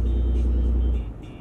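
A Cummins diesel truck cruises at highway speed, its engine giving a deep, loud, steady rumble with turbo noise, then dropping away abruptly near the end.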